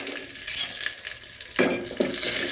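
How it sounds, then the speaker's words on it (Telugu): Dry red chillies, coriander seeds and cumin crackle and hiss as they fry in a little oil. The close, continuous sizzle jumps louder and brighter partway through as they are stirred in the pan. "లైట్గా దోరగా వచ్చే వరకు వేయించుకున్నాం ఫ్రెండ్స్"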